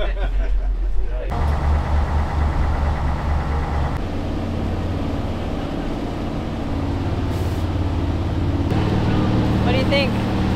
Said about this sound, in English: We're going on an Uber boat down the Thames River.